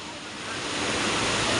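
A steady rushing roar of sea waves, loud and close, swelling slightly toward the end with no other sounds.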